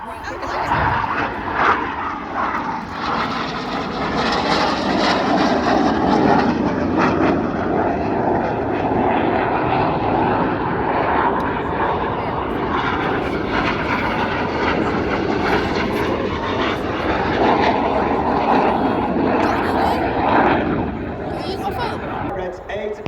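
Red Arrows-style display jets at the RIAT air show: a continuous loud roar of jet engines sweeping past, with an announcer's voice over the top and crowd noise underneath throughout.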